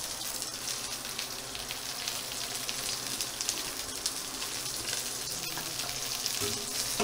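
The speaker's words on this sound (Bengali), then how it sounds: "খুব সুন্দর এখানটা ফ্রাই হচ্ছে, দেখতে পাচ্ছেন।" Pumpkin flower fritters frying in hot oil, a dense, continuous crackling sizzle like light rain that holds steady throughout, with no talking.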